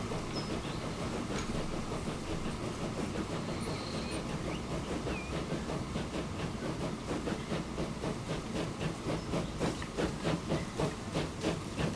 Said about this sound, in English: First steam train arrived.